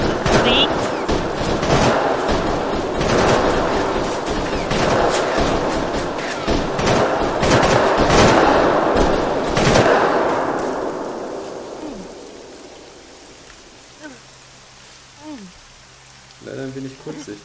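Gunfire in the military shooter Arma 3: a dense run of loud, sharp shots and bursts rattling for several seconds, then dying away to a quieter background with a few distant pops near the end.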